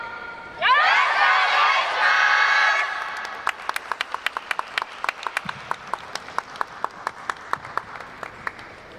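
Festival crowd at a Japanese yosakoi-style dance event bursts into loud cheering applause, which fades into sharp, evenly spaced rhythmic clapping along in time, crisp and close, with a low thud or two underneath.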